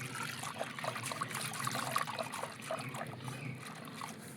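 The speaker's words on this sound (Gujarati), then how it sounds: "પાણી નાખીને બરાબર હલાવી દેવાનું." Water poured into a bowl holding a pinch of soda and salt, then stirred well for a batter, giving a steady close trickling and swishing that runs throughout without pause.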